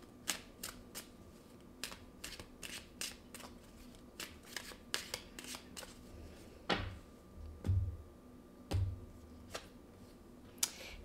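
Tarot cards shuffled for a reading, a series of quiet, crisp riffling bursts at an uneven pace, close up, with a few soft thuds as the deck is handled.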